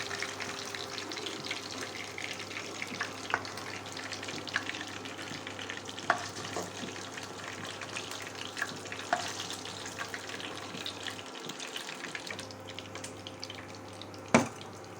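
Onions fry in hot oil in a pan for Assamese chilli paneer, giving a steady crackling sizzle with scattered spatters and a sharp clatter near the end, with no talk.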